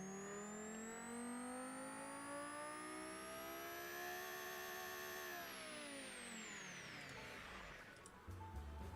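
Virtual car engine in the Automation car-building game revs up in a long smooth rising whine to a peak, then drops away as revs fall, closing with a brief rough idle at the end.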